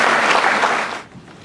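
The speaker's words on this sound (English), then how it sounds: "Give yourself a round of applause." An audience at a retirement reception during homecoming weekend breaks into dense applause, loud and full for about a second before it quickly fades to near silence.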